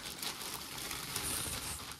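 Crinkling plastic packaging as a Dark Project ALU87B Bushido keyboard is unboxed, a steady close rustle lasting about two seconds with no talking.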